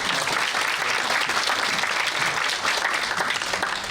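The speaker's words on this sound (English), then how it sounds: "Let's give a round of applause to our" Full, continuous applause from a large audience at a corporate business presentation, a thick even wash of many hands clapping at once with no break.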